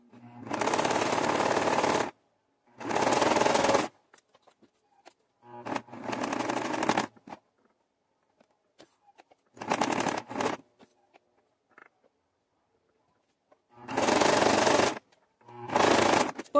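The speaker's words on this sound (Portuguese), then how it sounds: "vamos colocar uma costura, fazer uma costura aqui em volta da peça" A sewing machine stitches around a fabric piece in several steady rapid bursts of a couple of seconds each, with quiet gaps between them, close and clear.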